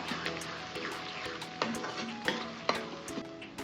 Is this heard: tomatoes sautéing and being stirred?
yes